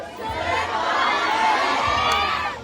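A large crowd at a Pride event in Manila shouts together, making a dense, loud, unbroken roar of many voices that holds steady for the whole stretch.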